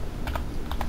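A few quick, crisp computer keyboard key presses used as grid-size shortcuts in the Hammer level editor, close and alone over a low background hum.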